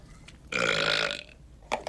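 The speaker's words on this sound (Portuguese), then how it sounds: "Foi um arroto." One long, loud, drawn-out burp rolls out in a single sustained belch, followed by some brief faint sounds.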